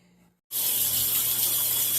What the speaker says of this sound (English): I'm in the shower getting ready for our first job.